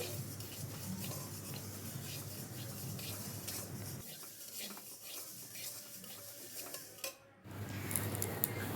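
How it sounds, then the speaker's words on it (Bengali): Moong dal being fried and stirred in a pan for Bengali khichuri makes a soft, quiet sizzle with scraping stir strokes and faint clinks, briefly dropping out before resuming. "আমি এখানে মুগ ডালটা ভেজে নিচ্ছি"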